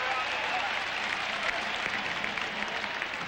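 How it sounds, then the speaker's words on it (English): A large Penn State football stadium crowd roars and applauds in a steady, dense wall of cheering that holds at full strength throughout, with no pauses or individual voices standing out. "The Penn State crowd is a factor."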